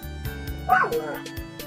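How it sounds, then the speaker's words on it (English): A dog barks and yips a few times in the background beneath steady nearby talking, the barks faint and brief. "And there goes my dog in the background."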